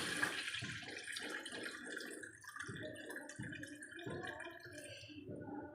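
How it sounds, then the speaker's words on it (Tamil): Tamarind water poured into a pan while cooking Tamil-style puli kuzhambu, a steady splashing liquid stream running throughout with soft sizzling beneath, close and moderately loud, with no talking. "இப்போ புளி கரைச்ச தண்ணியை இதில் ஊற்றிக்கலாம்."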